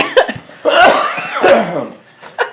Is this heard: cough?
yes